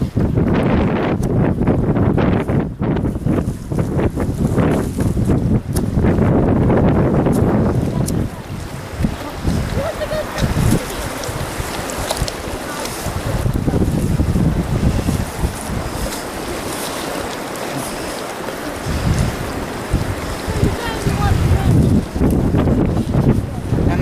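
Strong outdoor wind roars and buffets the microphone in loud, continuous gusts that rise and fall over the whole stretch.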